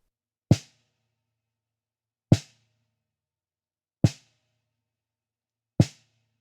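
Four dull snare drum hits struck in the center of the head, damped with a tea towel, land at slow, even intervals, each short and dry with almost no ring, separated by silence.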